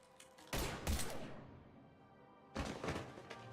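Mass Effect 3 gunfire cracks out in two loud, dense bursts separated by a quieter lull. The shots are close and heavy, with a reverberant tail after each burst and no talk over them.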